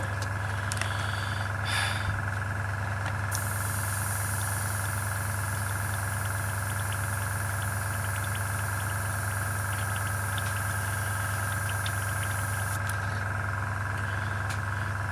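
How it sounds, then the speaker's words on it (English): An air compressor, used while building a 1/48 scale model aircraft, runs with a steady loud drone and hum that lasts the whole stretch, joined midway by a higher hiss of air that stops near the end. "Once the compressor stops playing up."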